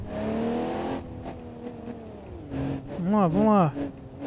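An ETK car in BeamNG.drive engine hum under a voice, then a sharper rising rev near the end as it accelerates hard.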